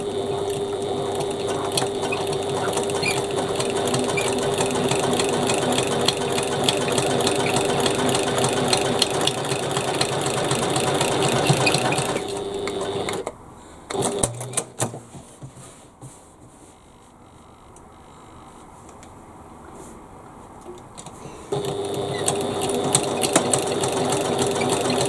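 Sewing machine stitching a bag, a fast steady motor whir with rapid needle chatter running loud and close for about thirteen seconds, stopping for a quiet stretch, then starting up again near the end.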